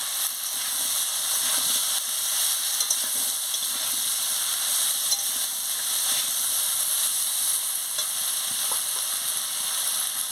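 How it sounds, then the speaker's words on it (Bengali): Vegetables (eggplant, potato, carrot and flat beans) frying in a pan with chilli and turmeric powder, giving a steady, fairly loud sizzle and hiss throughout, with faint scraping of stirring underneath. "হলুদের গুঁড়ো দিয়ে দিচ্ছি, দিয়ে ভালো করে আনাজটাকে নাড়িয়ে নিচ্ছি"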